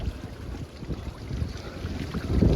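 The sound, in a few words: bicycle riding through street floodwater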